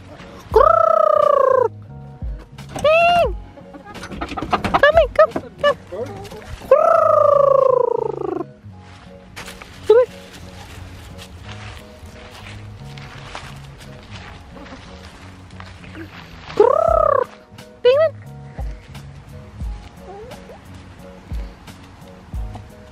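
Belgian chickens clucking and squawking nearby, several loud rising calls in bursts over a low background murmur.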